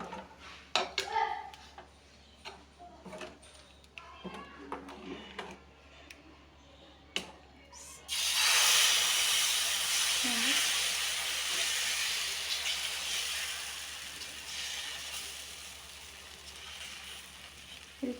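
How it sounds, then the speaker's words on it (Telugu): Dosa batter hits an oiled hot pan on a small griddle and breaks into a sudden, sustained hiss that slowly settles, following light clinks and scraping utensil sounds. "ఆయిల్ వేసుకున్న తర్వాత దోశ వేసుకోవాలి."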